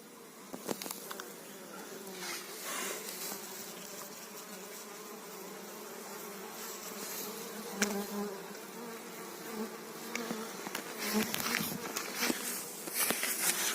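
Honeybees buzz continuously around the listener near a sunflower-honey apiary, a droning hum with individual bees flying close past now and then, rising and fading over light rustling.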